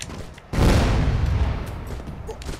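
A flashbang grenade goes off in the Broforce video game, a sudden loud burst followed by a long crackling, rumbling decay that slowly fades.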